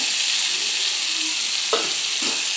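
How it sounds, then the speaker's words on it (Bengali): Fried potatoes and pointed gourd hit cooked masala in hot oil, giving a loud, continuous sizzle with a couple of brief stirring scrapes near the end. "আমি ভেজে রাখা আলু আর পটলগুলোকে তার সঙ্গে দিয়ে দেব"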